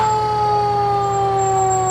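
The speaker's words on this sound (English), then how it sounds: "Tower truck number 4, over 100-foot boom extension on there." A fire department tower truck with a 100-foot boom rolls past in a summer festival parade in Fergus Falls, Minnesota, its siren wailing loud and steady over a low engine rumble.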